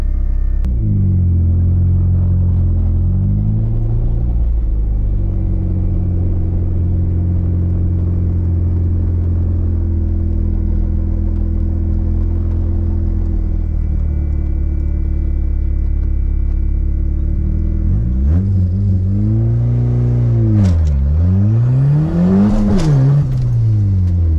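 Turbocharged Honda CRX GSR engine idling as it warms up, a steady low rumble held close for about twenty seconds before the revs rise and dip in a few swelling passes near the end.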